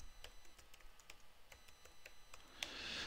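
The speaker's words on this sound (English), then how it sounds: "now I type in my password." Keys tapped on a computer keyboard while a password is typed, a quiet run of separate clicks at an uneven pace, alone without any talk, ending in a slightly louder keystroke.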